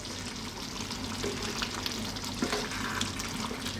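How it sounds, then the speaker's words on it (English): Mediterranean lamb and tomato stew bubbling gently in a covered pot just above a simmer, giving a steady soft sizzle and crackle with faint scattered pops throughout. "Lid on, staying on this just above a simmer."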